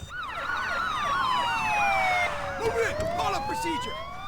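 Several wailing police sirens in the video game GTA 5 rise and fall together during a bank heist, loud and continuous, with a steady background of traffic-like noise throughout.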